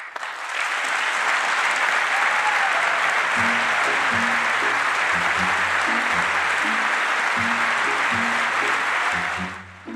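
Sustained applause fills the chamber of Congress for the President, a dense wash of clapping from a large crowd that swells in and keeps going throughout.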